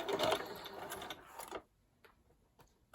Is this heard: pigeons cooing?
no